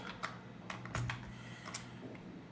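A computer keyboard clicks in a few scattered, quick bursts of keystrokes, close and moderately loud, with soft quiet gaps between them and no talking.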